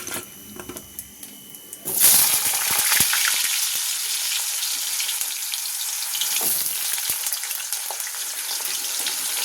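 Potatoes hit hot oil after a spice tempering for a paneer dish, bursting into a loud, steady sizzle that fills the pan after a quieter opening with faint clicks, and no one speaks over it.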